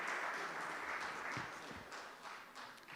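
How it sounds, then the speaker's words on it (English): An audience applauds at a sports event keynote, a soft, steady wash of clapping heard from a distance that fades slightly toward the end. "A big round of applause for so many things that he has spoken about."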